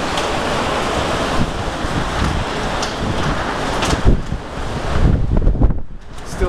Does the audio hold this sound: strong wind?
yes